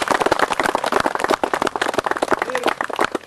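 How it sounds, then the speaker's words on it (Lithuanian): An audience at a carp fishing cup applauds in a dense, steady burst of clapping from many hands, fairly close and continuous for a few seconds. "Dar kartą visiems Jūsų aplodismentai."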